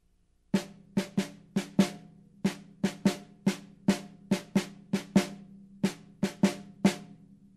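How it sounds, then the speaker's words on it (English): About seventeen crisp snare drum strokes play alone in a syncopated jazz-rock pattern, with uneven spacing between sharp, ringing hits in a quiet room. "If I just played it on the snare drum, it would sound like this."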